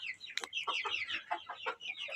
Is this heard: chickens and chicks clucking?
yes